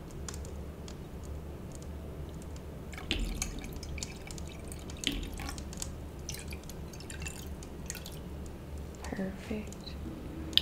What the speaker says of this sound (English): Sure, I can pour you a glass.